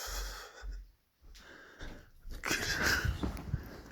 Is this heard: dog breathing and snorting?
yes